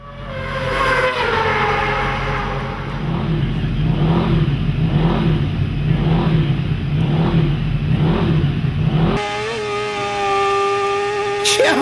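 A racing motorcycle at the Isle of Man TT roars past at high speed, its engine rising and pulsing in a loud sustained surge before the pitch shifts abruptly as it passes.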